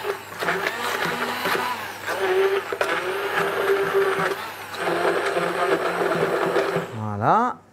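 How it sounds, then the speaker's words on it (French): A blender whirs steadily while mixing foie gras moelleux batter, running loud and continuous for about seven seconds before cutting off abruptly. "maintenant je mixe ma préparation pour le foie gras, donc le fameux moelleux au foie gras"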